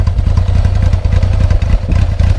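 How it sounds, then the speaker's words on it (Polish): A 1988 Yamaha XJ600 cafe racer engine runs steadily close up, with a loud, even, rapid mechanical pulse and some clatter and no voices. "Natomiast sam silniczek brzmi, jak widać bardzo dobrze, nie dymi, nie kopci."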